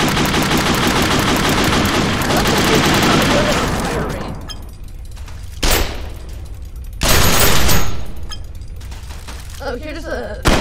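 Mod guns firing in the video game People Playground, a loud sustained burst of rapid gunfire followed by separate shots and a blast, with a voice briefly heard near the end.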